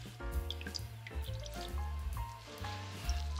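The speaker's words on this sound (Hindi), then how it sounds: "आपने इसको ऐसे दबाना है ताकि इसका पानी अच्छी तरह निकल जाए" Water drips and trickles from freshly made paneer as it is pressed and squeezed by hand, with irregular drops and small squishy splashes, fairly close and clear, with no talking.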